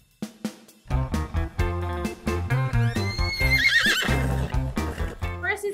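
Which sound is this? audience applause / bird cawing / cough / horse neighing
horse neighing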